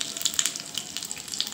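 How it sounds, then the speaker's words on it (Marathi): Cumin, mustard seeds and asafoetida sizzle in hot oil for a tempering poured over idli chutney, a close crackling hiss with quick sharp pops scattered throughout. "आता ह्याच्यामध्ये मी टाकून घेणार आहे जिरे, मोहरी टाकून घेतली, जिरे टाकलेत आणि थोडासा हिंग टाकून घेते"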